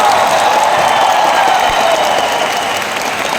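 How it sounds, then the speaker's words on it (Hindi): A large anniversary event audience claps loudly and continuously in a big hall, a dense, sustained wall of applause with faint cheering mixed in. "तो एक बार जोरदार तालियां अपने लिए"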